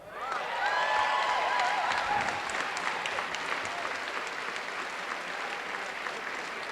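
A large audience at an Airtran event applauds and cheers loudly, with a few whoops early on and a dense wash of clapping that continues steadily throughout.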